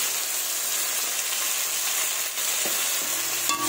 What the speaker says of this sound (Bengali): এবার মাছ ভাজার তেলেই আমি আলুগুলো ভেজে নেব।